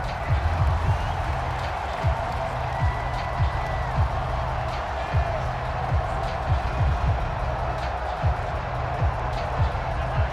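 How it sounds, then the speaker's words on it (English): A stadium crowd roars steadily through a 2023 NFL game between the Minnesota Vikings and Philadelphia Eagles, building noise before a third down, a dense continuous wash of cheering with scattered thuds and a commentator talking over it. "This crowd turning up the decibel level."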